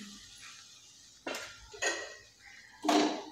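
Whole wheat flour goes into a pan with roasted poppy seeds and a little ghee and is stirred, with three distinct bursts of a utensil scraping and clinking against the pan between quiet stretches.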